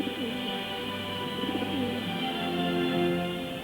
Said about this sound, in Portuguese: O Espírito Santo desceu do céu em forma de uma pomba sobre Jesus.